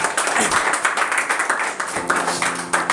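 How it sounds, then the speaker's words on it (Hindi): Audience applause at a jashan poetry gathering, a loud, close burst of many people clapping with individual sharp claps standing out and some crowd noise under it, lasting about three seconds. "ज़ोरदार तालियां बजाएं।"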